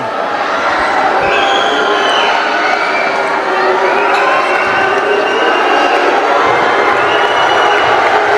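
Loud, sustained roar of a packed basketball arena crowd at an NBL Pilipinas finals game as a player shoots a free throw, with whistles and shouting rising and falling beneath a commentator's voice.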